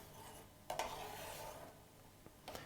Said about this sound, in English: I'm going to give it a little bit of a stir.